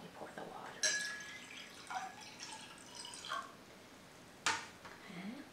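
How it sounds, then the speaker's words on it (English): Water poured into household cups or bowls during a simple lesson on liquids: soft splashes and scattered drips, close and fairly quiet, with faint voice sounds in the background. "we can pour the water and just kind of look at it,"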